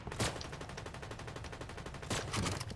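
Rapid automatic gunfire in Fortnite, a dense string of evenly spaced shots across the whole stretch, with louder bursts near the start and again toward the end.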